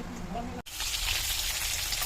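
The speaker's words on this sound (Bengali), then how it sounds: "ওই যে মাছ ভাজা হচ্ছে প্রচণ্ড ছিটছে তাই ঢাকা দিয়ে দিয়ে ভাজা হচ্ছে" Large magur catfish pieces fry in hot oil, a dense crackling sizzle with popping spatter that drops out briefly, maybe as a lid goes on, then comes back loud and close.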